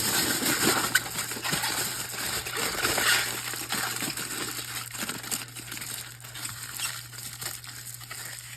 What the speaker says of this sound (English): So, wrap each one in foil.